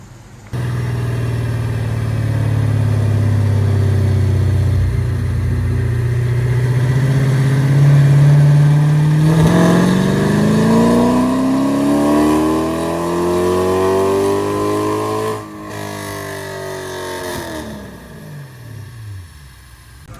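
A cammed 6.4 Hemi V8 on a dyno climbs from a loud, steady drone into a long rising rev that peaks and then drops off as the throttle closes, heard close and alone.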